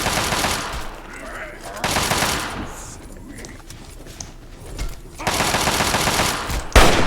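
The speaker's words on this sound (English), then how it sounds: "you can see somebody shooting at him" Gunfire in the video game Fallout 3 comes as loud, rapid automatic bursts at the start and again near the end, with quieter scattered shots and thuds between them and no talking.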